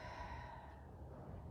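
A single soft, airy breath during an exercise workout, a close exhale trailing off into quiet background noise.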